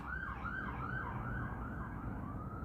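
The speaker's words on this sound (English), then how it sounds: "Sirens everywhere." Emergency sirens wail continuously in the distance over steady traffic rumble, a faint rising and falling tone throughout.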